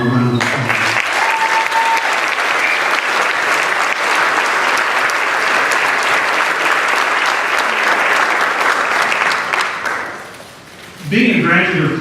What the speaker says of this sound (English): let's give them one final round of applause.